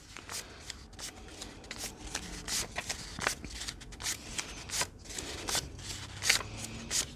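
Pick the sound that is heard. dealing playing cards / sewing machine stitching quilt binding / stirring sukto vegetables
dealing playing cards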